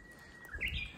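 Small birds chirp on a cool mountain morning, a few short tweets rising briefly from a quiet, hissy outdoor background.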